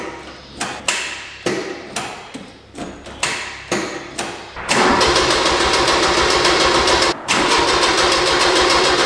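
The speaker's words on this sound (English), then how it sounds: "the starter is awful slow turning" A Land Rover's starter motor cranks slowly and laboriously in a shop, in about nine or ten separate uneven bursts, before the engine catches and runs loudly and steadily, briefly dipping once.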